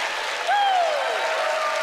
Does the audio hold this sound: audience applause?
yes